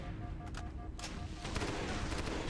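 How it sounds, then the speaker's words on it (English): Brute shot grenade-launcher fire from enemies in the Halo SPV3 mod, heard as a quick series of sharp bursts and explosions amid steady game noise, moderately loud with no talking. "they're firing like brute shots at me"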